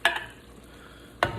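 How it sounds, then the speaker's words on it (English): A spoon stirs sancocho stew with tomato sauce in a pot, giving two short scraping bursts at the start and another near the end, close and fairly quiet, with a soft simmer in between. "Give that a nice stir."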